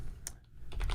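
Typing on a computer keyboard while coding: a few quick, close key clicks in a short burst, quiet and without speech.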